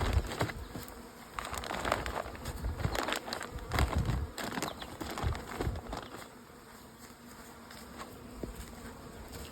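Honey bees buzz steadily around beehives outdoors, a dense, continuous hum with individual bees swelling louder as they pass close by.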